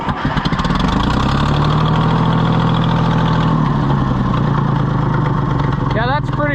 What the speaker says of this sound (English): Yeah, that's a pretty aggressive exhaust leak.